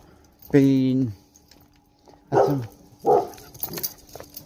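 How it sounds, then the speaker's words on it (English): Dogs bark outdoors near a farmer's field, one drawn-out, fairly loud bark standing out before someone talks over the scene. "Oh god, them dogs."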